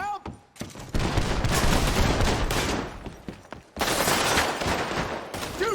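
Rapid gunfire bursts from the Red Dead Redemption 2 video game, loud and close, arriving in dense volleys with a brief gap in the middle, while shouting voices break in around them.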